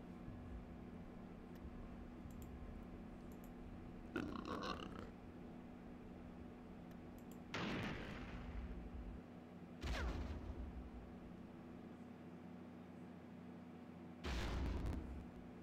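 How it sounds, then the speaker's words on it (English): Laser missiles launch and explode in a Star Wars game mod: four separate bursts of sharp blasts and rumbling explosions are spaced a few seconds apart over a low, steady background hum. "Those some laser missiles right there."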